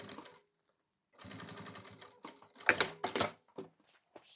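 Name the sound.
sewing machine stitching a safety seam on fabric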